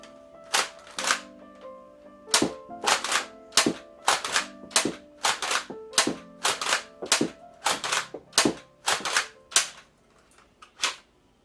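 A dart blaster fed from a Dragon Claw magazine fires a rapid string of sharp, loud pops, about two dozen shots in an uneven burst with a mechanical whir beneath, close by, until the magazine runs empty; no voices.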